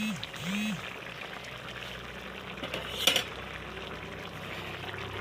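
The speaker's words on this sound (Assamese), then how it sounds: "গাইছ এতিয়া এডাল ষ্টিকে এনেকৈ ঘুটনি মাৰিব লাগিব।" Taro leaves simmering with fish head are stirred in a metal pot with a stick, giving soft scraping and sloshing, a couple of swooping metallic scrapes near the start and a sharp clink midway.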